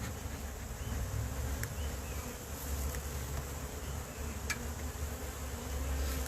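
Honey bees buzz around hive frames full of honey, a dense, steady, close drone with a few brief louder passes of individual bees.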